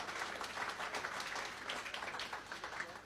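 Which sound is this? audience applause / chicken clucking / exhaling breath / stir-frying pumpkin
audience applause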